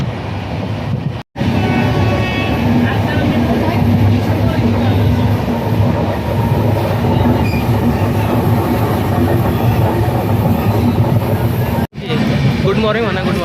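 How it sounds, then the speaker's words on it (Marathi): A train bound for Kolhapur rumbles steadily and loudly from inside a carriage, with continuous rolling clatter and two brief dropouts, while people talk over it. "तर अजून पण आम्ही ट्रेनमध्येच आहे."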